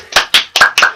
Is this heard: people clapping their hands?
yes